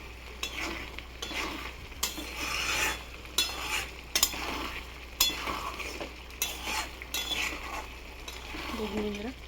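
A spatula stirs lotiya fish curry in a pan, giving soft, intermittent scrapes and light clinks over a faint sizzle. The sounds are quiet and come in short bursts, with a brief voice-like sound at the very end.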